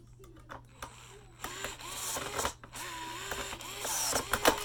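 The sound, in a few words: driving T15 screws in during Kirby vacuum teardown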